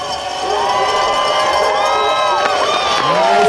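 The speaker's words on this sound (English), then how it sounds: "That was an awesome amount of noise." Spectators at the Harris Hill ski jump cheer and whoop loudly as a jumper comes down the hill, a dense roar of crowd shouting with high whistles and yells rising over it, growing stronger toward the end.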